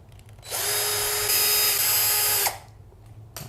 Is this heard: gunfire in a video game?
no